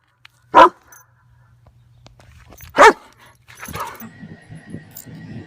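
A dog barks twice, loud and sharp with a pause between, followed by softer whimpering and panting sounds close by.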